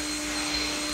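A household vacuum cleaner runs steadily during home cleaning, a loud continuous whine with a constant hum, close by and alone.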